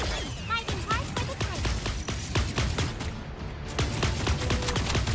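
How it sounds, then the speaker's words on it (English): Rapid gunfire rattles in the mech battle video game Super Mecha Champions, a dense, loud fusillade of repeated shots continuing throughout under busy game sound. "just trying to shoot a light gun at me"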